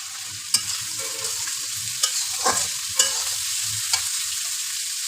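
Dried shrimp fry in a pan for a drumstick curry with a loud, steady sizzle. Several sharp spatula scrapes and taps come at intervals up close, with no voices.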